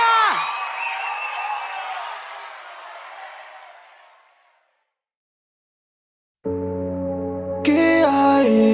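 Crowd cheering and whooping in a loud burst that gradually fades to silence, followed by music starting up, at a concert honouring an Argentine singer.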